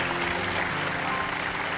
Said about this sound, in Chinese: 让我们起立把掌声送给两位老师